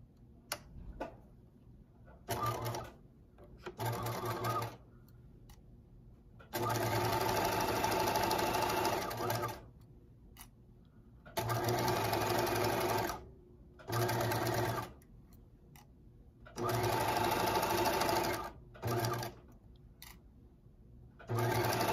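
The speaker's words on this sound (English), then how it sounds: "now I'm just going to stitch close to that edge" A sewing machine stitches close along the edge of a fleece pullover in several bursts of a few seconds each, with short pauses between them and loud, close whirring.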